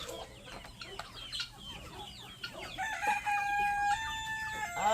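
Roosters crow and chickens cluck on a homestead keeping sixty birds of many breeds, with overlapping calls near and far and a long crow toward the end.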